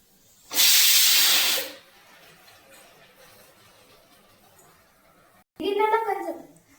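Ground spice paste dropped into a hot pan, a loud burst of hissing sizzle for about a second that quickly fades to a low background, followed later by a short burst of speech.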